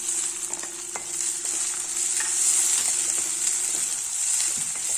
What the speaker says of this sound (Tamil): நல்லா வதங்கட்டும் வெங்காயம் எல்லாம் ஓரளவு வதங்கிட்டு